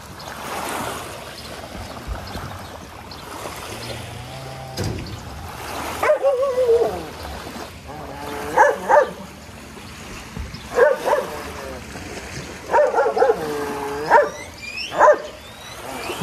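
A dog at Lake Atitlán barks several times in short bursts from mid-distance while water trickles and laps along the shore, and a low motor hum drifts underneath.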